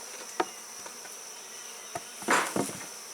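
Honey bees buzz faintly around a hive frame during a honey harvest, with a thin, constant drone and brief louder passes of individual bees flying close. No voices are heard.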